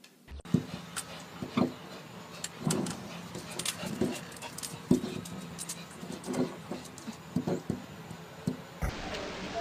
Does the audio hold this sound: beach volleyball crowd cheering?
no